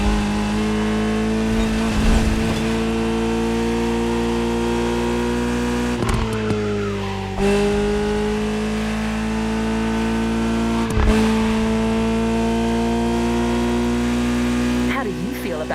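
A Ferrari 308 GTS engine in the video game The Crew Motorfest drones steadily with harmonic tones, shifting pitch as it revs up and down, with gear-change breaks; a voice speaks over it.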